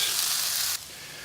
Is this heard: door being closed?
no